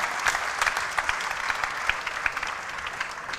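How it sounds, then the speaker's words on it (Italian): An audience at a horse event presentation in a villa claps in a brief round of applause, crisp individual claps standing out in a steady patter, moderately close with no talking. "fate un applauso a Clara, cioè fateglielo."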